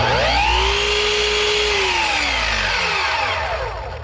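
A Festool Kapex miter saw motor spins up and runs loud and close, a steady high whine with pitch sweeps as it reaches speed, then begins to wind down at the end, with no talking.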